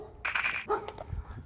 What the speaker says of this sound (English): there's a dog yelling at me